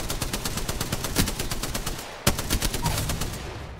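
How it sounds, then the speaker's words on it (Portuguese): Rapid automatic gunfire rattles in fast bursts during an Apex Legends match, with one heavier single blast partway through, the shots loud and close with no talking over them. "Grande tiro de shotgun que o gajo me mandou."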